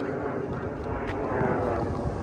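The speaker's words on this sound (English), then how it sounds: "Plane overhead." An airplane passing overhead outdoors, a broad, steady engine roar that swells slightly toward the end, loud and continuous, with a voice faintly under it.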